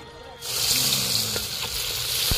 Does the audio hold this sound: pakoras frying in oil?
yes